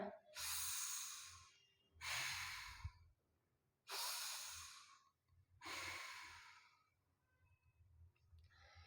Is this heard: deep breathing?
yes